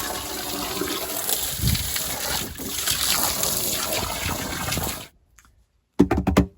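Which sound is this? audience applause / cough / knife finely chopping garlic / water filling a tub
water filling a tub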